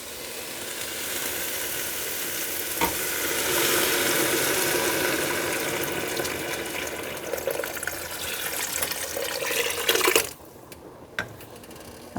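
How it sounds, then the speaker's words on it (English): Vegetable broth pours steadily into a soup pot over high heat with onions, a loud continuous rushing liquid sound that runs for about ten seconds before cutting off abruptly, leaving quieter sizzle. "I'm going to add my vegetable broth"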